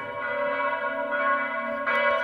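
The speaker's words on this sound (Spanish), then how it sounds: "Voy a tocar las campanas para ti," Church bells ringing with a sustained, resonant metallic tone, a fresh strike adding brightness near the end, loud and alone with no talk.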